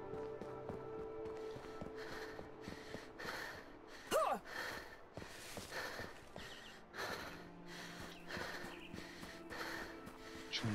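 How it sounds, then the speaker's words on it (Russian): A creature breathes heavily in the horror game Fragmented, with repeated rough, snorting breaths and gasps pulsing over a low droning ambient background, one sharper gasp standing out partway through. "Чего он так дышит?"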